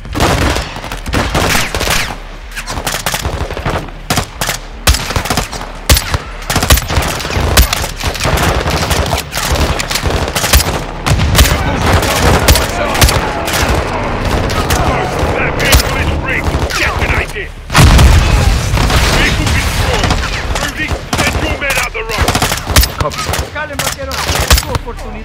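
Sustained cover gunfire in a Modern Warfare II prison-break battle, dense bursts of automatic fire and single shots crackling loud and near for the whole stretch, with voices talking over the combat.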